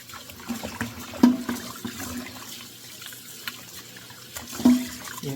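Tap water runs softly into a kitchen sink while pork neckbones are rinsed, with a few light splashes and clunks over the steady trickle.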